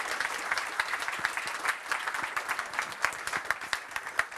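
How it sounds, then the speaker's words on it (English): A crowd applauds steadily, many hands clapping together in a dense, sustained burst. "Maybe we can thank him with a round of applause."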